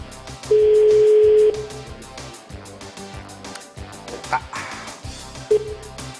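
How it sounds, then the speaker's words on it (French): A single long electronic ringing tone sounds near the start, followed by quieter background music with a short beep or two. "Deuxième sonnerie."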